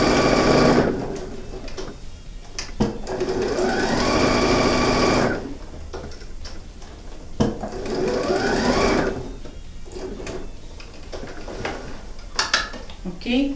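Sewing machine stitching a seam along the top of a patchwork coin purse made from fabric scraps, in two long steady bursts of motor whir with short pauses and light handling clatter between.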